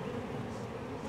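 Honeybees buzz at the hive in a dense, continuous close-up hum, heard alone for a brief moment.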